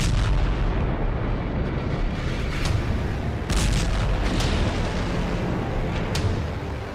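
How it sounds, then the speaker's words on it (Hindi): Explosions in the Israel-Hezbollah war rumble one after another, a continuous heavy roar of booms with sharper blasts breaking through, loud and dense with no talk. "एक के बाद एक धमाके हो रहे हैं।"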